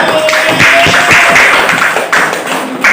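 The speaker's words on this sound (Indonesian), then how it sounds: "Berikan tepuk tangan untuk kelompok 3" Applause for a student group in a classroom: dense, steady clapping from many hands nearby, continuous for the whole stretch with a few louder claps standing out.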